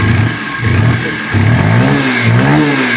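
A Bajaj Pulsar 125 BS6 E20 motorcycle engine, started on self-start without throttle, settles into a steady idle, a continuous low chugging drone with a few slight surges, close and loud with no talk.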